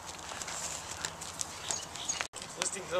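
Horse hooves clip-clop steadily during a horseback ride, faint and blended into outdoor background noise, with a child riding and adults nearby.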